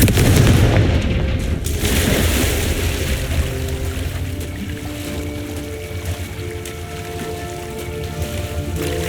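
A loud booming blast from the Confringo fire spell in Hogwarts Legacy erupts and then fades into a rumbling, crackling tail with a low ambient drone beneath.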